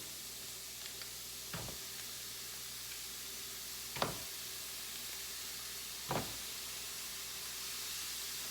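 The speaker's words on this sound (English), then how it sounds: "now I'm just gonna put it in to the pan" Quiet, steady sizzling hiss of sausage frying in a non-stick pan over medium-high heat, broken by three soft clunks spaced a couple of seconds apart.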